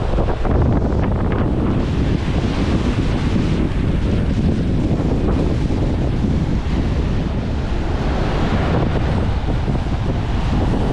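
Strong wind buffets the microphone in a constant heavy roar, mixed with crashing surf, steady and loud throughout with no talking.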